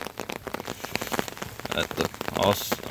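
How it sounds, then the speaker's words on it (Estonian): Heavy rain pours steadily over an outdoor party, a dense, continuous patter of drops hitting surfaces nearby, loud and unbroken for the whole stretch. "vihma ikka tuleb ikka nagu oavarrest"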